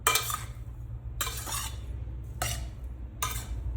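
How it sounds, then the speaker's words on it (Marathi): Soaked sabudana (tapioca pearls) tossed with salt by hand makes four separate bursts of soft grainy rustling, with quiet pauses between them over a low background rumble. "साबुदाण्यावरती असं मीठ टाकायचं, याला शेंबे मीठ म्हणतात, आणि याला असं मिक्स करायचं"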